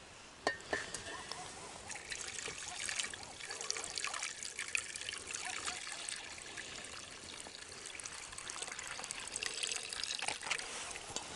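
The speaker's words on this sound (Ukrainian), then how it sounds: "Тепер заливаємо зверху. дуже обережно нашим розсолом." Brine poured carefully over stuffed, fermented eggplants, a steady soft trickle and splash of liquid running continuously with a few small clicks, close and fairly quiet.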